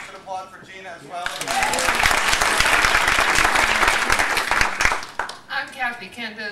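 An audience at a question-and-answer session breaks into full applause, a thick burst of clapping swelling after a spoken line and lasting about four seconds, with voices talking before and after it.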